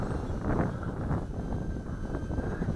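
Wind gusting and rushing outdoors, a steady broadband roar with slight swells, heard near the microphone without speech.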